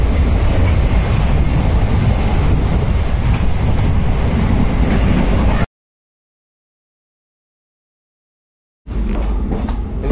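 Train 06602 Madgaon Special rolls past Mulki railway station, heard from on board as a loud, roaring rumble with wind buffeting; the sound cuts out completely for about three seconds before the rushing noise resumes.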